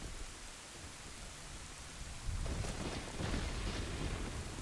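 Steady rain hiss in the video game Zelda: Ocarina of Time fills the clip, growing heavier and denser about halfway through, with a broad rushing wash and no voices.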